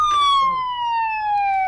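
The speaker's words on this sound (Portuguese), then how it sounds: "quando toca essa sirene" A descending electronic siren sound effect wails on a radio news program, one clear sliding tone gliding steadily downward, loud and alone for under two seconds.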